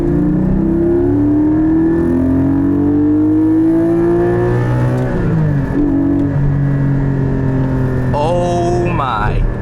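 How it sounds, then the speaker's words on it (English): A 2020 Porsche 718 GT4 accelerates hard, its engine note climbing steadily through the revs, loud and close from inside the cabin, then briefly dropping at a gear change before rising again. "All right, quick acceleration here."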